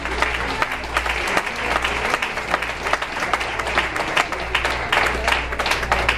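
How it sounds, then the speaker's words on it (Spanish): A church congregation at a Christian fellowship gathering breaks into sustained applause, a dense crowd of hands clapping steadily with a few sharper claps standing out, with low hum underneath. "Fuerte, fuerte el aplauso a Dios."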